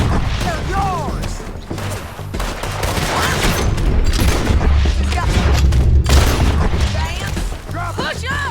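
Heavy gunfire erupts during a shootout in Red Dead Redemption 2, with rapid overlapping shots, booms and ricochets keeping up a dense, loud barrage while voices shout over the fighting.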